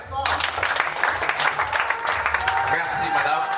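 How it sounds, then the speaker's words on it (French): An audience applauds at a Christian Movement for Solidarity and Democracy event in Kasaï Oriental, Congo, dense sustained clapping filling the room with some voices mixed in. "est-ce qu'on peut acclamer?"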